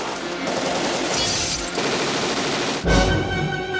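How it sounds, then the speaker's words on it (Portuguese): Gunfire from the action film Die Hard 2 erupts in dense, loud automatic bursts that continue throughout, ending in a sharp heavy blast. "E vai dar mais tiroteio."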